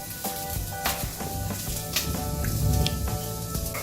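Vegetables for chicken fried rice stir-fry in a hot pan with a continuous close sizzle, broken by scraping and clattering strokes of a utensil against the pan.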